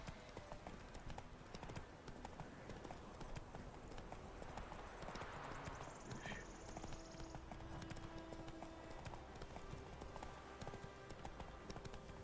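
The horse Roach trots along in The Witcher 3, its hooves clip-clopping in a steady rhythm, quiet and continuous, with a brief whinny-like sound midway and no one talking.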